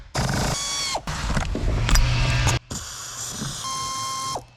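A ratcheting tool clicks and whirs in short mechanical bursts while working a stubborn bolt loose from a vehicle seat, with rapid pawl clicks close by separated by brief pauses.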